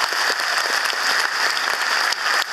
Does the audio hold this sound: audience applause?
yes